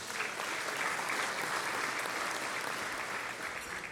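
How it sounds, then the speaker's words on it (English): An audience applauds at a business awards luncheon, a dense, steady wash of clapping from a large crowd that holds for the whole stretch before tapering slightly. "Round of applause for those folks."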